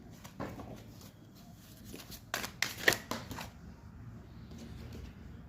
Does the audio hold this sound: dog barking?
no